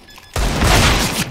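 A burst of gunfire in the video game CS:GO, a single loud, close blast with a booming tail lasting about a second, heard alone without talk.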